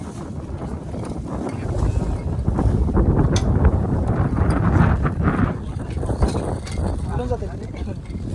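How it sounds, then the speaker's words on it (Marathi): Strong wind buffets the microphone in a continuous low roar outdoors on a gusty day during a village cricket tournament, with people talking underneath throughout. "वारं आज बी आहे डेंजर"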